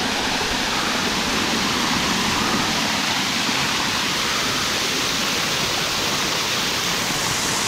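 Waterfall in a canyon along the Water Canyon Trail, a loud, steady roar of falling water filling the whole scene without a break, close and continuous with no voices.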